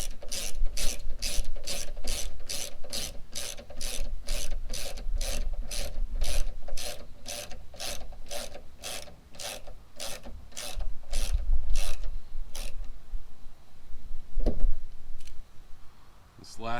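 A ratchet wrench clicks in a fast, steady run of sharp pawl ticks while removing roof rack bolts from a Tahoe, Yukon or Escalade, loud and close, then stops near the end with a few scrapes.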